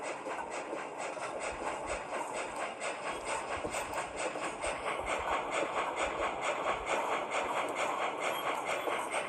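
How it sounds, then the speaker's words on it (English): Big Boy steam locomotive in the Trainz 2 railroad simulator, with a steady rhythmic chuff running throughout alongside constant squeaking and metallic rattling, moderately loud and continuous with no voices. "The chuffing sound on this model is very different compared to the other one. I hear a lot of squeaking and rattling."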